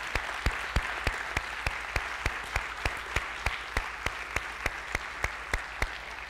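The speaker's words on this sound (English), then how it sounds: "Give a big applause for all the sponsors" Applause for sponsors at the ISU SSP22 opening ceremony comes through as faint, evenly spaced claps in a steady rhythm over a quiet room, with no talking.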